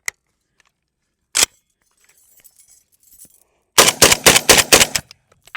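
KS-12T shotgun fired in a video game, first a single sharp shot, then after a quiet pause a rapid string of about six loud, close blasts with metallic clinks.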